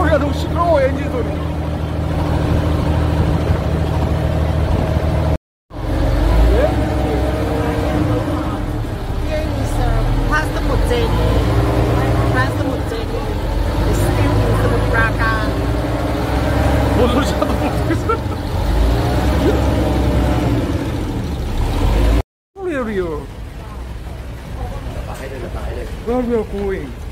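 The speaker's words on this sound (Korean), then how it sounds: "그럼 엔진 소리." Chao Phraya river cruise boat in Bangkok, a steady engine rumble with water and wind noise that runs on through two short gaps, voices faint in the background.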